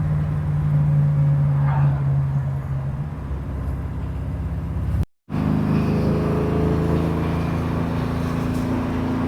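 A 1955 Chevy Bel Air with a TKX gearbox drives at steady road speed, a constant low engine drone with a brief dropout midway, heard from inside the car.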